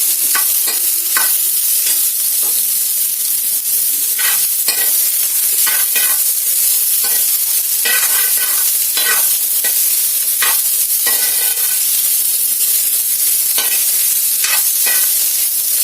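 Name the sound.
radish frying and being stirred in a pan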